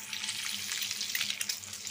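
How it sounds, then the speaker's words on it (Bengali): Eggs sizzle in hot oil in a pan, cooked on both sides until browned, giving a steady close crackling hiss with small pops and faint utensil movement, no voices. "ডিমগুলো আমি দুনো পাশ উল্টে লাল করে ভাজা নিচ্ছি"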